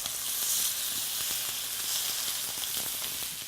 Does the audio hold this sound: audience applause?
no